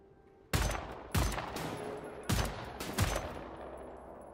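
Four separate marksman rifle shots in the video game Wolfenstein: The New Order, each a sharp close crack with a short decaying tail, spaced unevenly about a second apart.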